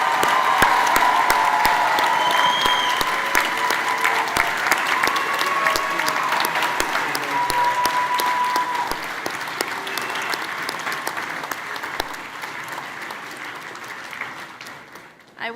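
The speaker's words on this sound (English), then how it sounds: "Let's all give our graduates one final round of applause." A large audience at the Cooper Union's 164th commencement applauds the graduates, dense sustained clapping filling the hall and thinning slightly before fading away at the end.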